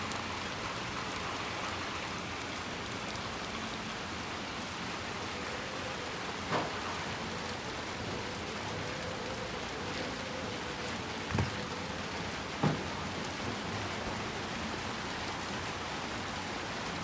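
Heavy rain pours steadily in Little Nightmares II, a dense, even hiss with a few brief louder spatters standing out against the constant downpour.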